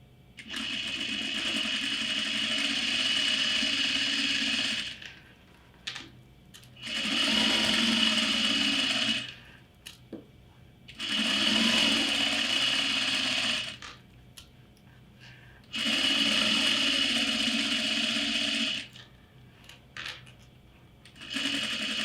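A sewing machine stitches bag pieces in four sustained runs of several seconds each, close and steady, with quiet pauses and faint handling noises between the bursts.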